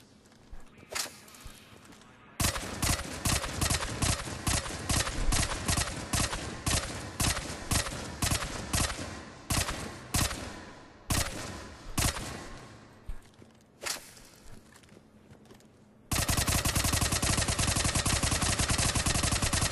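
Rapid automatic gunfire from the Tempest weapon in Mass Effect 3 rattles out in repeated loud bursts, separated by short pauses, and ends in one long sustained burst.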